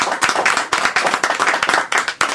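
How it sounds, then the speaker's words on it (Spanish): A small group claps steadily at a book presentation, a dense run of close, uneven handclaps lasting a couple of seconds with no voices over it. "Muy bien, aplausos para Alba Luz."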